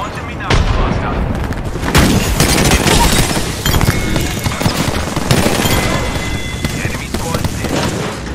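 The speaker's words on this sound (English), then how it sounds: "Launching me knuckle cluster." A Knuckle Cluster grenade in Apex Legends fires and bursts into a loud clatter of rapid overlapping explosions, loud and close, set among other gunfire and booms in a chaotic battle.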